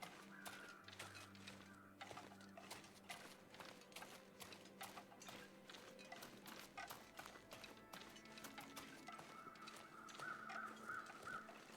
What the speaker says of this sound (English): Them's the same crows as before.